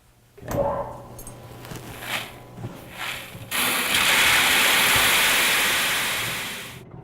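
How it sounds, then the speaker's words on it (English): Historic 1872 mill machinery at a Monmouth County mill starts up on an electric motor in place of water power: a few quieter clunks, then a sudden loud, steady rushing roar that runs on and slowly eases. "Okay, I'm going to turn on the electric motor now."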